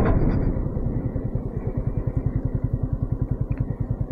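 A motorcycle engine idles close by with a steady, rapid thumping pulse that holds evenly throughout.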